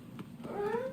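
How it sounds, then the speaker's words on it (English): A cat in the video game Lost Judgment gives a short rising meow at the end, faint and close behind a brief spoken word. "Oh. That's a cat."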